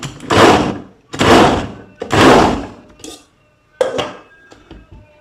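A food chopper pulsed in short bursts on vegetables: three strong whirring pulses about a second apart, then a couple of fainter, shorter bursts with clatter, close and loud.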